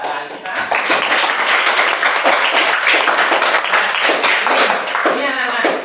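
An audience claps steadily for Mbak Raisa in a classroom lesson on computational thinking, loud and continuous applause lasting the whole stretch before easing off at the end.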